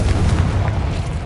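A Confringo blasting spell explodes in Hogwarts Legacy, a loud, deep, rumbling boom that fills the short moment and stays heavy in the low end throughout.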